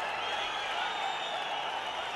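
A stadium crowd applauds and cheers a batter's half century at a Tamil Nadu Premier League cricket match, a dense, steady roar of clapping that fills the whole stretch.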